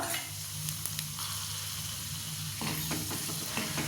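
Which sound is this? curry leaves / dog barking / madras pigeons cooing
curry leaves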